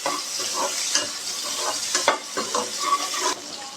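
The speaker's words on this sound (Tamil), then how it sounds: "இஞ்சி பூண்டு ரெண்டையுமே சேர்த்துக்கலாம் இதையும் வந்து நல்லா வதக்கிக்கலாம் அடுப்பை ஹை ஃப்ளேம்லேயே வச்சுக்கோங்க" Ginger and garlic sautéing in hot oil over a high flame for a country chicken curry, a steady loud sizzle broken by repeated scraping stirs of a spatula against the pan, with no voices.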